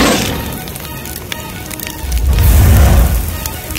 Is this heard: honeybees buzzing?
no